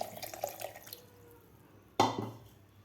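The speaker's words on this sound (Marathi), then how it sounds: "भगर भिजू घातलेलंच पाणी आपल्याला थोडंसं यामध्ये घालायचं आहे" Soaking water from barnyard millet poured into the batter in a kitchen, a faint trickle followed by a sudden close splash, heard alone without talk.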